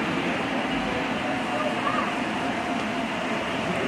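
Steady rumbling of model freight trains, including Santa Fe and BNSF intermodal and manifest trains, rolling along the track at a model railroad museum, a continuous mechanical drone with faint clatter and some background noise throughout.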